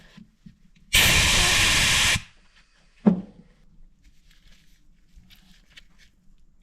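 A burst of compressed air blasts for about a second to clear packed grease from a winch during an overhaul, a loud steady hiss that cuts off sharply, followed by a single short knock.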